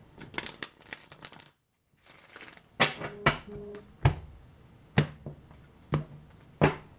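Tarot cards are handled close up: a quick burst of riffling shuffles, a brief pause, then a series of sharp, separate taps and snaps as the deck is cut and squared, with quiet gaps between.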